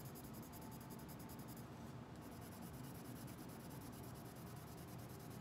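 Colored pencil scratching back and forth on paper while drawing stripes, a steady close, soft rasping scribble with no talk.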